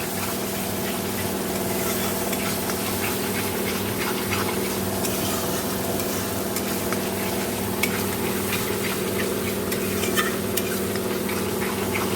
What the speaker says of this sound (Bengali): তো চলো মশলাটা ভালো করে কষে নিই